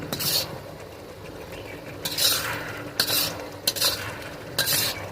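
Chicken pieces are stirred and sautéed in a covered pot with tomato, giving a soft continuous sizzle broken by several scraping strokes of a utensil against the pot at uneven intervals; no voices.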